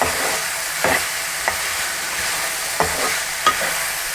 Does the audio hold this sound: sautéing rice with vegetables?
yes